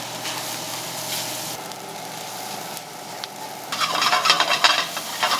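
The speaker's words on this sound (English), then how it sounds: "Now we're gonna add in this kimchi and a bit of the kimchi broth" Kimchi and kimchi broth sizzle steadily in a hot frying pan with stirring, the frying growing louder and crackling more brightly toward the end.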